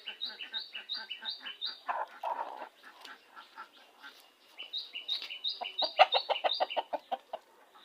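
Several chickens cluck and chirp steadily nearby, with rhythmic runs of short calls and a few louder bursts.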